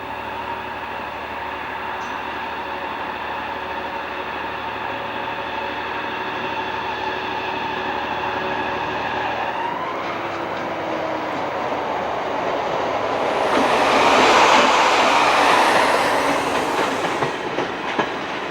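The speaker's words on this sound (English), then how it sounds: "An empty rake is taken to the mine's loading terminal by a T44 class diesel" A T44 class diesel locomotive hauls a rake of empty ore wagons to a mine loading terminal, its steady engine drone joined by rhythmic wheel clatter, then a louder rush as the train passes close by.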